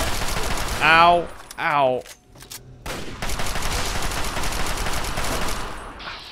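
Double-barreled shotgun blasts in Fallout 3 crack out as loud bursts near the start, mixed with a man's pained grunts, followed by sustained rough gunfire and combat noise.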